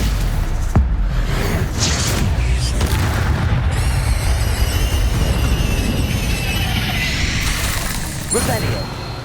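The Stupefy spell goes off in Hogwarts Legacy with a loud booming blast amid dense game effects and ringing shimmer, while a voice speaks over the busy action.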